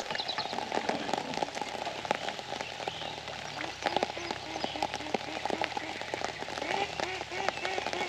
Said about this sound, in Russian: Идет дождь, все мокрое.